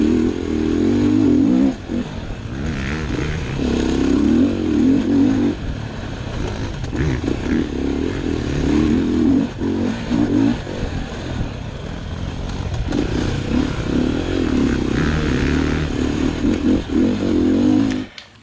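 A Sherco 450 SEF-R Factory Edition dirt bike being ridden, its engine revving and pulling in loud sustained bursts with throttle changes and brief lifts, close by, with no talk.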